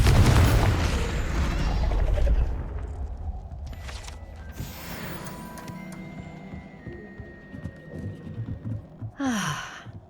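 A Confringo blasting spell goes off in Hogwarts Legacy, a loud booming burst at the start that decays into rumbling debris and magical shimmer, followed by quieter clinks and a bright whooshing sweep near the end.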